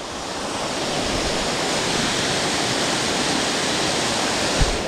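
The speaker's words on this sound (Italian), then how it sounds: "Va qua che acqua." Water rushes in a steady, loud, broad hiss beside a long road or path walk, constant and unbroken for the whole stretch with no voices.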